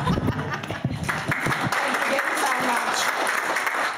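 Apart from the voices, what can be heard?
audience clapping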